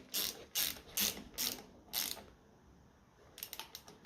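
A ratchet tightens nuts on a 1955 Ferguson 20 TEF diesel tractor: five loud, close bursts of rapid clicking in a steady rhythm, a short pause, then a quicker run of fainter clicks.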